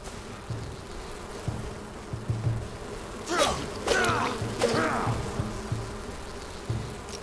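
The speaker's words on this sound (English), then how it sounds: "There's actually 2 groups of these bees." Bees buzz in the game Enshrouded, a faint steady drone under ambient game noise, broken by a few swooping whooshes and low thuds as the player moves nearby.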